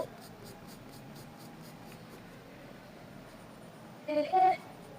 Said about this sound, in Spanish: Entonces estoy agregando un poquito más de presión en el lápiz.